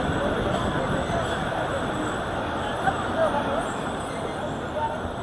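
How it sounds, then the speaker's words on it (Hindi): Marvi Express train pulling into Pithoro Junction, a steady broadband rumble and rattle of rolling cars under a wash of station crowd noise and voices, with a few small clanks near the middle. "तो पिथौरो पे आई है ट्रेन।"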